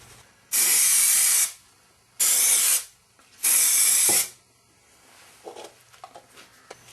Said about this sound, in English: I'm using some heavy duty spray adhesive.